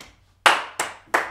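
Three sharp hand claps in a swing dance class, evenly spaced and close, each crisp with a short decay, with no voices.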